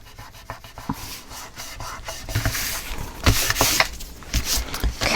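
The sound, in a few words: burnishing paper layers on a mini album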